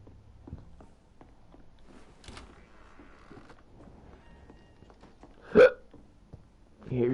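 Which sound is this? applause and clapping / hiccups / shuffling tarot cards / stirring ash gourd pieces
hiccups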